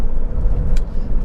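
A Honda CR-V 2.2 i-DTEC diesel engine idles steadily, a low continuous rumble heard up close for a brief moment.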